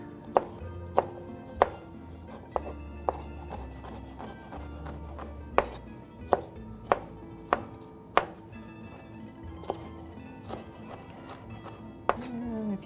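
Homegrown tomatoes chopped with a knife on a cutting board for a Mediterranean bread salad: a series of crisp, irregular knife taps close by, some louder than others, over faint kitchen background noise.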